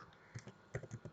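A few scattered keystrokes on a computer keyboard while entering a Kubernetes install command, soft irregular taps clustered in small bursts, close and quiet, with no talking.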